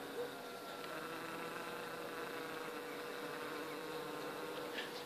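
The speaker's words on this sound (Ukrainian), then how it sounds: "Чути такий шум вулика потривожив сім'ю" A disturbed honeybee colony in an outdoor wintering hive gives off a steady, low, continuous hum, even in level and close by, with a few faint higher buzzes from single bees on top.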